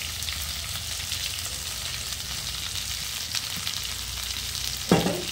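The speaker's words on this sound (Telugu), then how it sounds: "కట్ చేసి పెట్టుకున్న ఉల్లిపాయ తురుముని కూడా మనం వేసుకోవాలి" Grated onion frying in a pan for brinjal chutney, a steady close sizzle with faint stirring scrapes and a brief louder clatter near the end.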